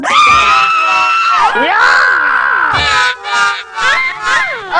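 A woman screams loudly in repeated wailing bursts, rising and falling, with no other talk over them.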